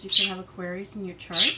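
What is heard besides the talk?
pet birds squawking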